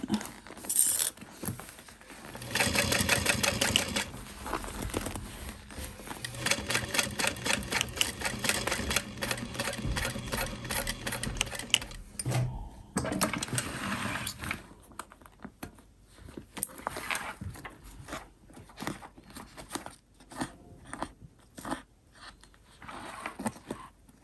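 A sewing machine stitches a Trailblazer Backpack in repeated runs of rapid mechanical chatter, close and moderately loud, broken by short pauses and clicking handling noises.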